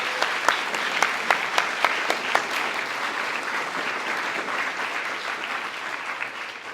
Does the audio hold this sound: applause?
yes